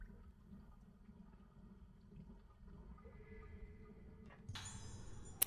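Sacred water flowing in the horror game Fatal Frame 4: Mask of the Lunar Eclipse, a steady low watery rush and trickle that runs throughout, swelling into a brighter, louder gush near the end.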